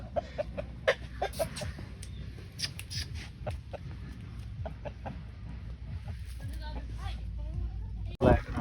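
A Java rooster gives short clucks among other chickens, the bursts scattered through the clip under talking. A sharp loud knock comes near the end.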